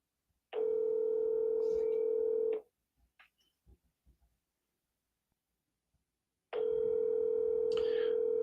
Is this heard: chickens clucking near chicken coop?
no